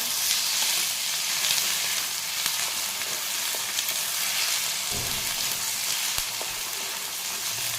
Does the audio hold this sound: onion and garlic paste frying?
yes